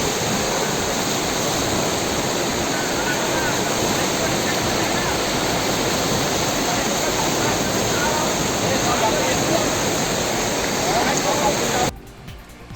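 Floodwater rushing after heavy rains in Dhupguri, Jalpaiguri district, a loud, continuous roaring wash of moving water that holds steady for nearly the whole stretch before cutting out abruptly near the end.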